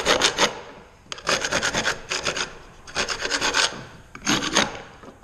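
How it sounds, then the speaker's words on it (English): A hand scraper strips glue from the edge of a wood board in a woodworking shop, four loud rasping strokes close up, each a quick burst of rough scraping separated by short pauses. "I'm going to hit this with a scraper really quick"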